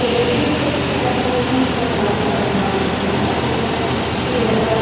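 Steady, loud rumble of the Argo Anjasmoro passenger train rolling past at close range at an Indonesian station, a continuous mechanical roar with no pauses and no voices.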